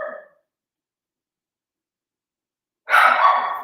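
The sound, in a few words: dog barking played from a phone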